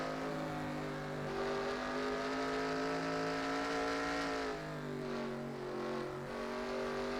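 An Xfinity series race car in a racing video game at Ireland runs with a misfire, a loud sustained engine drone with wavering, uneven pitch that dips and stumbles partway through, heard alone.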